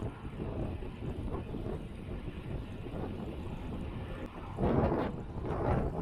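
Steady wind buffeting a microphone outdoors on a road bicycle ride at about 30 km/h, a continuous low rumble that swells louder in gusts near the end, with no voices.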